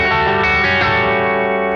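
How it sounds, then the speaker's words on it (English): Distorted electric guitar chord ringing out through a flanger pedal, a swirling, sweeping effect, loud and sustained, no voices. "more of a flanger, which, for those who don't know, the sound effect known as flanger"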